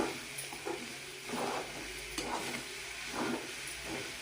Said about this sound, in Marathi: त्याच्यानंतर छान हलवून घ्यायचं त्याला